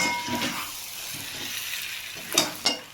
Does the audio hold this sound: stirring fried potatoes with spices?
yes